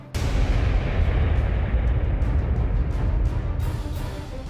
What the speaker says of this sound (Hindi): पहाड़ियों से उठता धुआं और एक जोर का धमाका